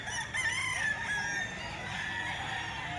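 Bullstag roosters crow among other fowl, one drawn-out call rising and falling over a steady background of farm clucking, moderately close with no talk.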